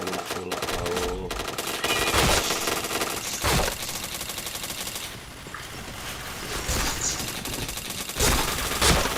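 Rapid automatic gunfire from the online shooter PointBlank, bursts of sharp cracks repeating through the scene with a few heavier single shots, loud and close.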